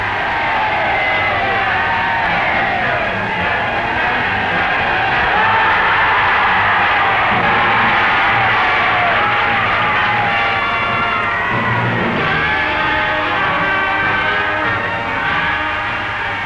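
Crowds cheering at King George VI's 1937 coronation procession: a steady, far-off roar of many voices with rising whoops, sustained and dense on an old recording.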